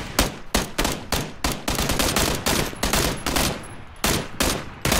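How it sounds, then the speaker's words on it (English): Rapid bursts of video game gunfire from a team shooter match, loud sharp shots in quick volleys with brief pauses, filling the whole stretch without talk. "We can take shots at the driver."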